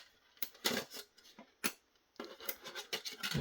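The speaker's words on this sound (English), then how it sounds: "Pry this off with my screwdriver." A screwdriver prying metal off a Linksys E1500 wireless router during a teardown gives a series of faint, close scraping and rasping bursts with short metallic clicks, spaced unevenly across the clip.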